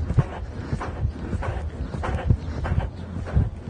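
A horse moves at a canter around an indoor riding arena during a dressage session, its hooves thudding in a steady rolling rhythm, close and fairly loud, with faint background sound.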